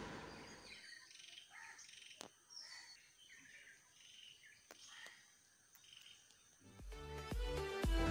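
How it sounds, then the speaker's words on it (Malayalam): Many birds chirp in a tree at dawn, high tweets and calls scattered over a quiet background, with insects faintly present and a louder burst of mixed sound at the very end. "ഈ മരത്തിൻ്റെ ഇവിടെ ഒക്കെ ആയിട്ട് കുറേ കിളികളൊക്കെ കരയണത് കേൾക്കുക"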